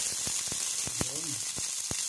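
Garlic and onion sizzling in a frying pan, a soft steady hiss with scattered light crackles and spatters, quiet and close, with a brief voice murmur over it.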